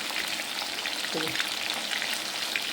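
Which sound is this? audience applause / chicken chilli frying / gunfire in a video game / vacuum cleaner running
chicken chilli frying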